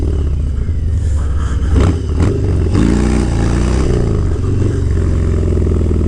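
A brand-new Harley motorcycle engine rumbles loudly up close, with a deep idle that rises into a rev partway through, alongside some clattering.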